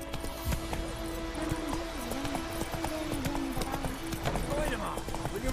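Rapid clip-clop hoofbeats of a horse galloping in The Witcher 3, steady and close over game music with a voice talking over it.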